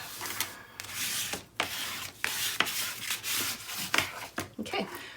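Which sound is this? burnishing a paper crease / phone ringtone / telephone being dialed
burnishing a paper crease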